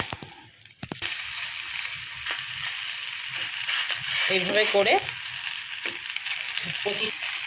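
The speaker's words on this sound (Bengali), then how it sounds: "এইভাবে করে আমি প্রতিটা একই রকম করে ভেজে নেব" Homemade tiffin snacks shallow-frying in a pan, a steady bright sizzle with occasional clinks and knocks, a voice talking briefly over it in the middle.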